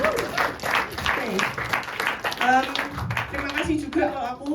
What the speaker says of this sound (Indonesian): Tepuk tangan untuk diri sendiri dulu